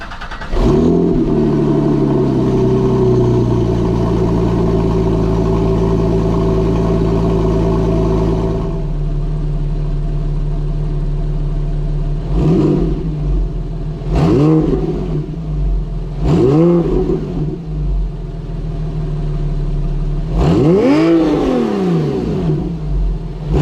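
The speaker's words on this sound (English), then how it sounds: "So let's start with the cold start, and then we can do some revs" A Porsche 911 fitted with a Shark Werks exhaust cold starts into a loud, steady high idle that drops after several seconds, then several sharp throttle blips rise and fall, the last one longest and strongest, recorded up close.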